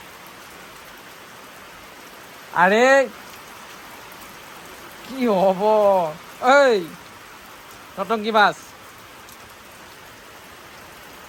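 Steady rain falls outdoors as an even hiss that runs through the whole stretch, with a few short bursts of a voice speaking close by over it.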